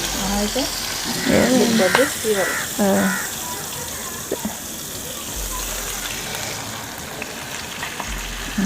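Tandoori chicken pieces fry in plenty of oil, a steady close sizzle with bursts of stirring and turning early on, continuing under a faint background hum.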